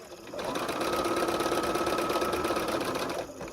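A sewing machine stitches quilt pieces for a Southwest Snowball quilt cut with AccuQuilt dies, running as one steady, close, rapid whir for about three seconds with no talking.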